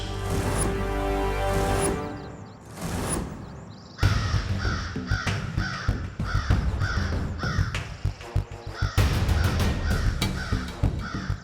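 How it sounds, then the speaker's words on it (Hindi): Crows caw repeatedly in loud, harsh calls, first a couple of drawn-out caws and then a rapid series of sharp, close cries with a steady rhythm, no speech. "वो रास्ता है त्रिनेत्री काक पक्षी।"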